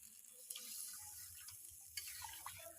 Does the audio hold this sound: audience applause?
no